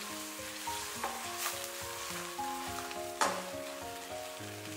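Spicy crabs sizzle in a wok with a splash of beer while being stirred, giving a steady hot crackle with occasional scraping knocks, over soft background music.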